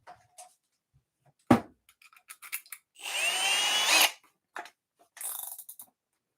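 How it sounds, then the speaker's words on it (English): A Milwaukee drill in hammer mode with a 3/16 inch bit bursts into one loud, rattling drilling run of about a second, framed by scattered clicks and knocks and a shorter, fainter whir near the end. "We are in hammer mode."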